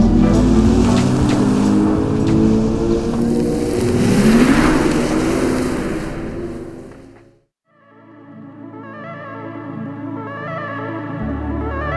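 A Hyundai IONIQ 6 electric car drives with a loud, rising whoosh of road and motion noise for several seconds. It cuts out briefly, then gives way to a steady tonal hum.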